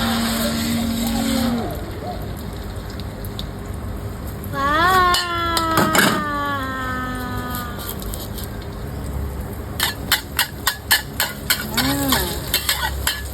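A mother makes a Thai-style egg omelette in a pan. Its steady, soft sizzle runs throughout under background noise, with whistling tones and a sequence of short clicks near the end.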